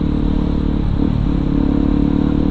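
A supermoto motorcycle with a racing exhaust drones loudly and steadily nearby, a rough throbbing exhaust note with a slight swell midway.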